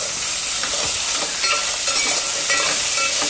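Vegetables for a rice kichidi frying in a pan and being stirred after salt is added, a loud, steady sizzle with intermittent scraping and clinking of the spoon, close up and without talk.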